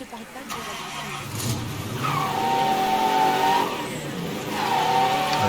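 A borrowed car's engine revs and swells with tire squeal in Mafia 3, rising in two loud surges while someone talks over it.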